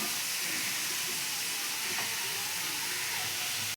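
Boiled spinach frying in a pan, a steady close hiss and sizzle running throughout, with no talking.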